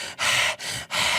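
A game master imitates a small, sinister goblin panting during a dungeon tabletop role-playing session, giving three close, breathy gasping pants in quick rhythm with no words.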